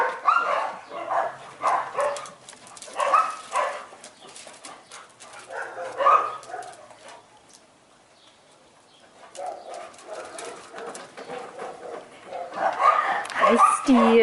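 Several pet dogs, among them Steel, Blue and Ruby, play chase and keep-away in a yard, giving scattered barks and yips that blend with bird coos and a person's calls, sometimes fading, then picking up again near the end.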